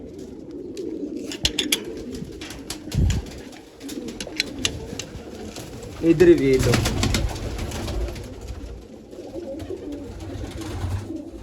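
Pigeons cooing in a loft, with several soft low coos near and around, mixed with wing flutters and brief rustles, while someone speaks now and then.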